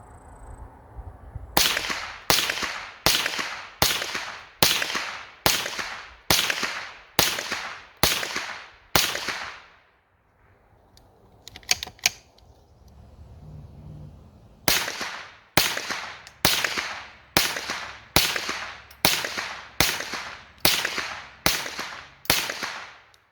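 A Browning Buckmark Carbine .22 rifle fires CCI Mini-Mag rounds from a rest at 75 yards, two strings of sharp, evenly spaced cracks, about ten each, separated by a quiet pause with faint handling sounds.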